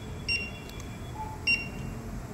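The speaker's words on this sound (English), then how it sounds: "Beep will come 3 times." X7 fingerprint reader emitting two short electronic beeps about a second apart during fingerprint enrollment, faint over a steady room hum.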